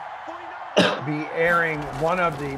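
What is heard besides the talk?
cough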